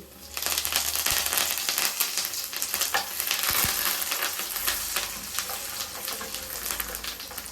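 Curry leaves sizzling in hot oil in a kadai for a tempering. A sharp burst of frying crackle rises and settles into a steady close sizzle with occasional spatters and stirring taps, and no voices.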